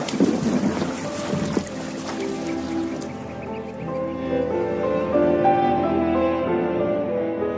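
A small boat's outboard engine drones steadily at close range in a radio drama scene, building to a loud, even hum after a short burst of splashing and wind noise at the start.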